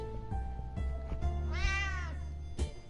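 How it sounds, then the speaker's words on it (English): A cat in the survival game 60 Seconds! Reatomized gives one drawn-out, wavering meow, fairly close and clear, framed by a few soft thumps and clicks before and after, with no talking. "I heard that cat."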